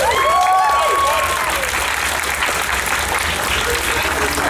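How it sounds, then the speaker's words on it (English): A crowd at a convention panel bursts into steady applause that fills the whole stretch, loud and close, with a few cheers over the clapping. "Give that man a round of applause."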